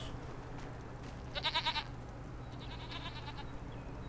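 A goat lets out a loud, wavering bleat, followed a moment later by a fainter second bleat over a low background hum.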